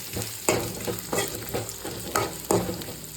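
Green chillies fry in an oil-filled pan, a continuous sizzle cut by several sharp spatula stirs at a steady pace, close and fairly loud, with no voices.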